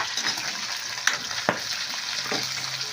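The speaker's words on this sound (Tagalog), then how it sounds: "Talsikan yung mga mantika." Liver sizzles in hot, splattering oil while being cooked for pancit, a steady close frying hiss broken by a few sharp pops and a soft stir.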